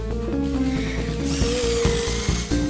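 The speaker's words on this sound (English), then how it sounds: "This is a Forstner bit, and it's for cutting big holes in wood." A power drill turns a Forstner bit through wood to cut large handle holes, a steady whirring grind with shifting pitch as the bit bites, close and loud.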